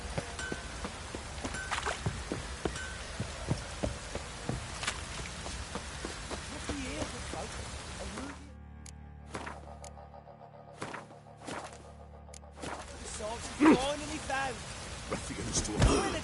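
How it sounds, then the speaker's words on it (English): Light drizzle patters steadily in the Witcher 3 game world, a soft continuous hiss of rain under game music and effects, with brief quieter gaps in the middle and a few thunks; speech occurs around it. "Oh, it's drizzling."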